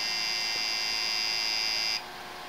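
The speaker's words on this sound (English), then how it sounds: "That's a very, very angry sounding beep this thing sounds when there's a problem." An old Dell Optiplex 780 desktop computer gives a harsh, sustained high-pitched POST error beep after its RAM stick is removed. The tone holds steadily for about two seconds, then cuts off abruptly, leaving a low machine hum.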